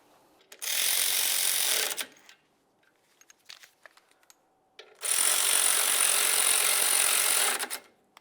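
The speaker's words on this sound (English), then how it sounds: "Install both of your caliper slider bolts, snug them up, torque them to 20 foot-pounds." Two long bursts of rapid ratchet clicking, each about one and a half seconds, as caliper slider bolts are tightened on a 1998-2002 Lincoln Navigator brake, with faint tool handling between them and no talk.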